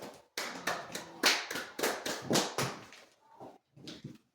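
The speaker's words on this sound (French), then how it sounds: "Acclamons très fort le Seigneur." A congregation at a church service claps and cheers loudly in praise, bursts of applause and raised voices in a quick rhythm that thins out near the end.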